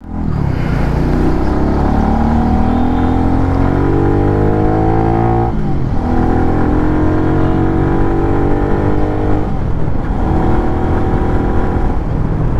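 A GTXL V4 Special Edition motorcycle rides along a road. Its engine note is loud and close and climbs steadily, breaking off briefly twice as gears change before pulling up again.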